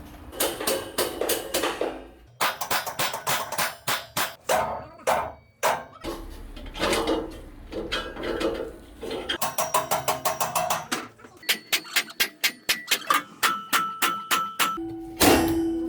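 A hammer strikes repeatedly during structural reinforcement work after removal of a load-bearing wall in a 1982-built house, with H-beam steel involved. The blows are sharp and loud, come in fast runs and spaced single hits, and some carry a ringing metallic tone.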